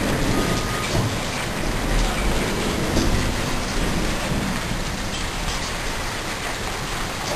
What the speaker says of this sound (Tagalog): umuulan ng yelo